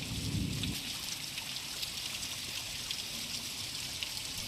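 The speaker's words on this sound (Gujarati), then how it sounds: "પહેલો વરસાદ, શાનદાર વરસાદ, જોરદાર વરસાદ દ્વારકાની અંદર જોવામાં આવી રહ્યો છે।" The first heavy monsoon rain in Dwarka, Gujarat, falling over rural fields as a steady, soft hiss of drops with a brief low rumble at the start, fairly faint and with no voices.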